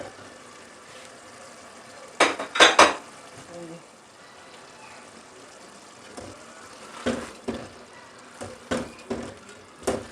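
A spoon clatters against a pot while mash dal is stirred and roasted, with scattered metallic scrapes and knocks over a faint, steady sizzle close by.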